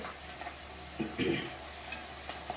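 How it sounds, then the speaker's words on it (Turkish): Peppers fry over high heat in hot oil for a winter menemen, giving a steady soft sizzle with a few stirring scrapes nearby. "Şimdi arkadaşlar bunu cidden kızartın. Hızlı ateşte biraz kızartın."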